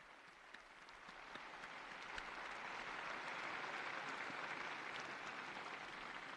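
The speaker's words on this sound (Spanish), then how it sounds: "Un aplauso para el nuevo beato." A large open-air crowd applauds a newly beatified person during a papal Regina Coeli address, a broad, distant wash of clapping that swells after a couple of seconds and then holds steady.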